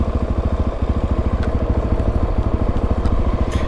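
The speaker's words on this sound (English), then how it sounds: "So I'm in second gear, but I'm freewheeling because the engine idled down." A Suzuki DRZ400 fitted with a Rekluse clutch idles in second gear while freewheeling, its single-cylinder engine thumping in a steady, even rhythm, loud and close throughout.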